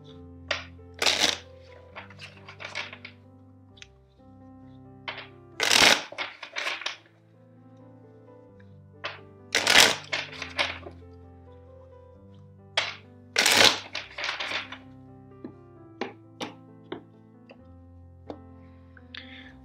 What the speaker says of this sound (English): first I will shuffle the deck four times.